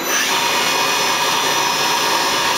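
Star SW7R Swiss-type CNC lathe with its main spindle and guide bushing spinning at 1500 RPM, a steady loud whirring hum without voices.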